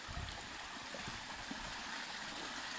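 Very clear creek water flows and trickles steadily close by, a continuous bright rushing babble with small gurgles and no one speaking.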